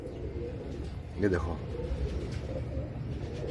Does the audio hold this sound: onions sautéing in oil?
no